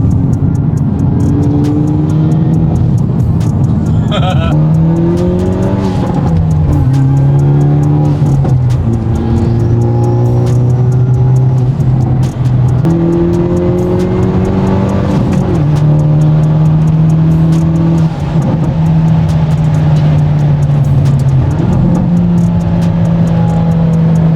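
A 2023 Hyundai Elantra N in comfort mode drones loudly from inside the cabin, revs rising and dropping through several gear shifts with a deep, steady exhaust rumble.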